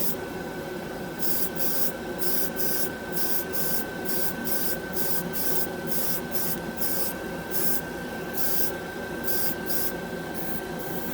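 Black 3.0 paint sprays out in a series of short, rhythmic hissing bursts, close and steady, against a faint constant background hum.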